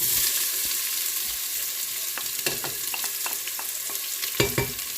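Onion frying in a pan, an even hissing sizzle with scattered light ticks and scrapes from stirring that grow busier toward the end, near and unaccompanied by voices.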